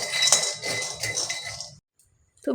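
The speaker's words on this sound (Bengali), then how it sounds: "বাদামগুলোতে একটু নুন দেব নুন দিয়ে ভাজলে খেতে ভালো টেস্ট হয়" Peanuts with salt being dry-roasted in a pan, stirred with a utensil that scrapes and clinks steadily for nearly two seconds before a short silence, then a fresh clatter at the end.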